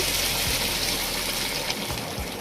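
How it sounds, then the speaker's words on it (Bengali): A steady rushing gush of pre-boiled water pours into a pot of fried rice for pilaf, close and fairly loud, with a few dull knocks underneath. "এখন আমি এখানে অ্যাড করছি পানি"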